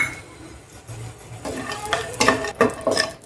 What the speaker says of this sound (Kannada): ಫ್ರೈ ಮಾಡ್ಕೊತಾ ಇದ್ದೀನಿ